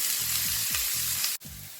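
Onions browning in a pan give a steady close sizzle broken by a few short scraping stirs and a brief dropout.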